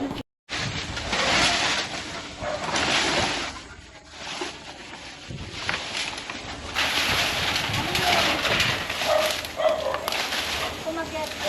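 Pigeon cooing close by among other birds, soft repeated coos mixed with a dog barking and people talking throughout.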